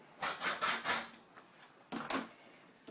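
Fabric being cut into 2.5-inch binding strips, a few scratchy rasping strokes in two bursts, close and fairly quiet with no talk.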